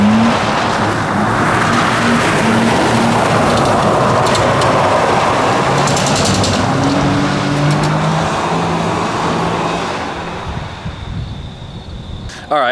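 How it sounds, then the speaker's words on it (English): JDM mini truck drifting and hopping, a steady loud engine drone with tire scrub and rattling close by, easing off near the end before a sharp knock. "It feels way more intense inside the truck, but it's drifting."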